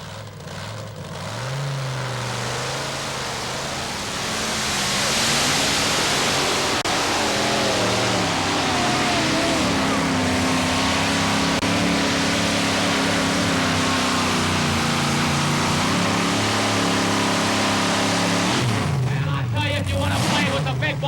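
A two-wheel-drive pulling truck drags a sled at a Hamburg, NY truck pull, its engine roaring loud and steady for the whole stretch, the pitch climbing as it gains speed, with a brief easing near the end.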